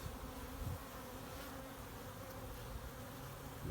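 Honeybees drone in a dense, continuous hum around a hive that has recently lost a swarm, with the buzz faint and steady and a few slightly louder passes near the start and end.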